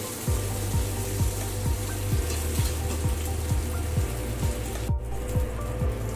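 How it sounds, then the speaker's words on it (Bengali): Sliced potatoes fry in hot oil during the cooking of a Bengali prawn curry, giving a steady close sizzle and hiss with regular soft low thumps underneath. "একটু আলুগুলো ভেজে নেবো।"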